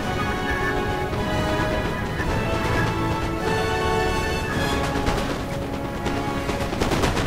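Musket volleys in the Napoleon Total War video game, dense continuous crackling gunfire layered over a rumbling battlefield din, loud and sustained throughout.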